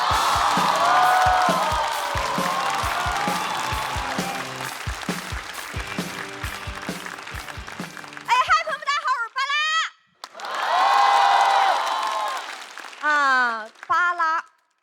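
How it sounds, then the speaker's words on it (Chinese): Loud audience applause with cheers and whoops greets a stand-up comedian on a comedy competition stage, then a voice speaks between further bursts of clapping. "我们掌声有请巴拉。"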